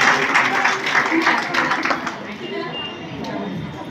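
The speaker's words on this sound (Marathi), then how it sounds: "त्यांच्यासाठी टाळ्यांचा गडगडाट करा." An audience at a prize distribution ceremony in Bhadgaon claps together, a dense burst of applause that gradually thins and fades, with a voice over a loudspeaker partly overlapping.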